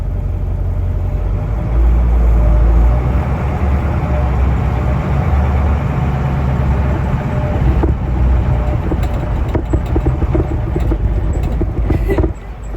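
An old cabover truck's engine idles steadily with a low, rough rumble, close and continuous, with a few brief clicks and clanks near the end.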